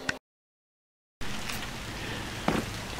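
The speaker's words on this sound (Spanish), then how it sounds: "amaneció lloviendo" Morning rain falls in a steady, dense hiss that cuts out briefly near the start, then returns and continues evenly with a slightly louder patch toward the end.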